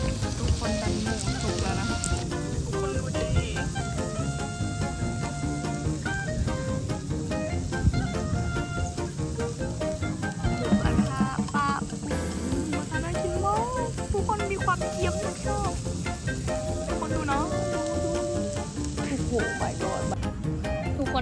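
Pork sizzles steadily on a very hot grill pan, a continuous crackling hiss with faint voices and music in the background, at a beachside barbecue in Jomtien.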